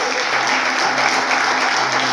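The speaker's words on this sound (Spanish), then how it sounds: "Den un aplauso de gloria al Señor" Steady crowd applause from a church congregation fills the whole stretch, dense and even, with no voices rising above it.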